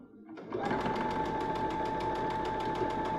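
Sewing machine stitching in reverse to take a few back stitches at the start of an edge-stitched seam, presser foot lowered; a steady, fast mechanical whirr with rapid needle ticks starts after a brief quiet moment and runs continuously, close and clear.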